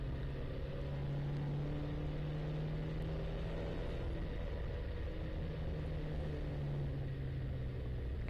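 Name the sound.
race car engine, driver lifting off the throttle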